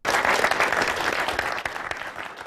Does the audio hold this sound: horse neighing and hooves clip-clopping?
no